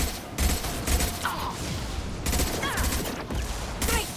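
Dense sci-fi gunfire from Mass Effect 2 rattles in rapid, overlapping bursts, loud and continuous, with faint voices mixed into the clamor of the firefight.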